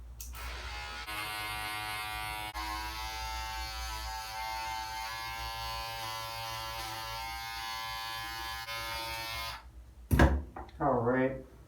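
Electric hair clippers with the guard off and the lever fully open buzz steadily at close range while cutting a fade, a bright humming drone that stops abruptly before a voice speaks.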